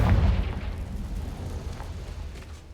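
Confringo fire spell bursting in Hogwarts Legacy: one loud, deep explosive blast at the start that decays into a rumbling, crackling tail lasting a couple of seconds.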